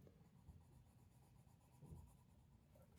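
Derwent Coloursoft colored pencil gliding across paper, a faint, steady soft scratching that runs throughout with a small click at the very end and no voices.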